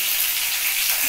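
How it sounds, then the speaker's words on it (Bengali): Cauliflower and potato frying together in a pan, a steady, even sizzle that holds loud and constant from start to finish with no voices over it. "ফুলকপি আলুটা ভাজা হোক।"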